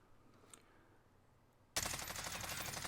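An XM4 assault rifle in Warzone opens fire after a quiet lull, breaking into a loud, sustained automatic burst of rapid shots very close.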